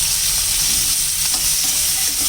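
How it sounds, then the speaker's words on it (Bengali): Young jackfruit pieces fry in hot oil in a pan, a dense continuous sizzle with faint scraping of stirring, loud and close with no voices. "এক্ষণে ভেজে নিচ্ছি কাঁঠালের ইঁচড়টা।"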